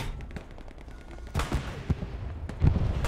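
Bursts of gunfire in the video game Hell Let Loose crack out irregularly, some single shots and some quick volleys, loud and close, with rumbling background noise.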